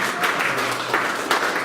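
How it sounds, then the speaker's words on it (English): A church audience applauding the worship team, a dense, steady wash of clapping filling the whole moment at moderate distance, without speech. "can we give a round of applause to the worship team?"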